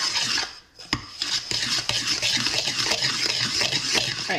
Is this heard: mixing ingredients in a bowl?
yes